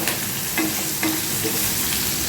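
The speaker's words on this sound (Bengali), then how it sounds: "অল্প একটু লালচে করে ভাজবো" Onions frying in a pan with chillies during chili chicken preparation, a continuous bright sizzle with a few soft stirring scrapes, close and steady.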